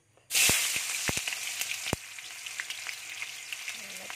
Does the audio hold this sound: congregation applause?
no